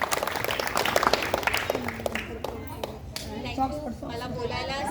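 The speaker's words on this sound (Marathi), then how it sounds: "पण जरा या लाखांताईंसाठी आणि शर्मा काकींसाठी जरा जोरदार टाळ्या झाल्या पाहिजे." An audience at the closing of a Venubai puja gathering breaks into clapping that thins out into scattered claps, with chatter and voices mixed in underneath.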